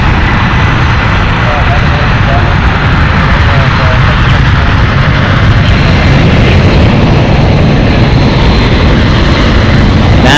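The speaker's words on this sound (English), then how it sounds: "That is one loud Boeing 767-300ER, Delta Airlines Flight 779, going to JFK" A 32-year-old Delta Boeing 767-300ER takes off from San Francisco International bound for JFK, its jet engines producing a loud, continuous, broadband roar that stays steady and close for the whole stretch.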